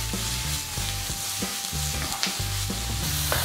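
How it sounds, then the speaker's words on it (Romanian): Oyster mushrooms stirred with a wooden spoon in a frying pan with salt and pepper, a steady sizzle broken by repeated scraping strokes at an even pace, close and fairly loud, with no talking. "Amestecăm des."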